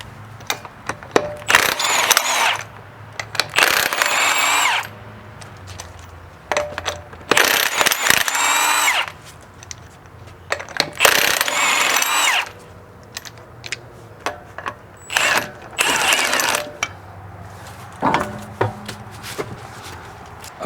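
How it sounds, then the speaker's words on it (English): Intermittent metallic clanks, scrapes and ratcheting bursts as lug nuts are removed from a Ford Mustang S197 wheel, in irregular spurts separated by quieter pauses, close by with no talk. "So you want to jack it up, and now we're going to take off the lug nuts."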